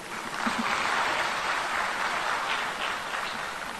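An audience at an annual accounting conference applauds in a steady, moderately loud wash of many clapping hands that stays fairly even throughout, with no speech over it.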